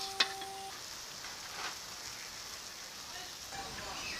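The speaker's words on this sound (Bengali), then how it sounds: "ঝোলটা ফুটতে শুরু করেছে" A hilsa fish curry with water, turmeric and salt bubbles as it comes to a boil, giving a soft, steady sizzle and simmer up close, with a few faint clinks near the start.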